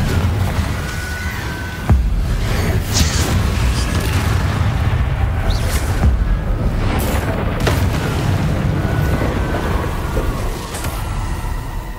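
A Confringo fire-spell explosion in the video game Hogwarts Legacy: a loud blast near the start rolls into a sustained, heavy booming rumble that stays dense and constant throughout.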